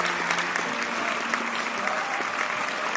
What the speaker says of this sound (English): With a rousing round of applause,